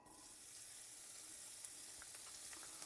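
Bacon sizzles in a little fat in a pan or pot, a continuous bright frying hiss with faint pops and crackles, steady and close, with no voices.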